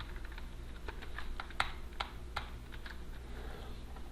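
Typing on a computer keyboard, a quick irregular series of soft key clicks with a few sharper taps, quiet and close with no talk.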